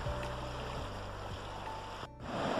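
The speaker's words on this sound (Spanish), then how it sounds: "si este sonido que escuchás al fondo, el río Azul" The Azul river flows in the background beside a walking trail toward a campsite, a steady rushing wash of water that stays constant throughout with no voices.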